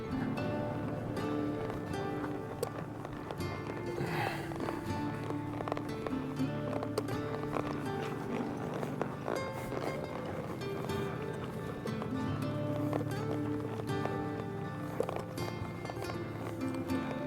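A horse trotting during a groundwork session with a rope, steady hoofbeats under wind and outdoor noise, with the rhythm continuing throughout.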